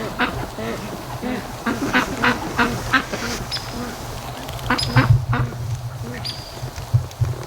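Free-range ducks sitting relaxed near a backyard hot tub in September, quacking softly and repeatedly at close range over a steady low background hum, with the calls rising in short bursts.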